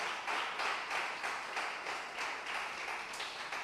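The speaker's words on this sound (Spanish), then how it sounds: "denle su mejor aplauso fuerte para que despertemos todos los que estamos aquí" A church congregation claps together during a sermon, with a steady, dense and fairly loud wash of applause pulsing in a loose, rhythmic beat throughout.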